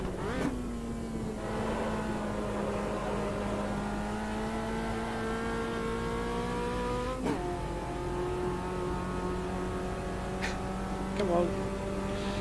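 Turbocharged race car engine in the racing game Automobilista 2, holding a steady, loud droning whine that climbs slowly and shifts pitch briefly twice as the car runs flat out.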